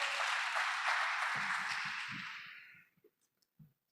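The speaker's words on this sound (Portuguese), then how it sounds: "Pode aplaudir ao Senhor, você que está aqui na igreja." A church congregation applauds in a steady, dense wash of clapping that holds briefly, then thins and fades away to near quiet within about three seconds, leaving only a few faint stray sounds.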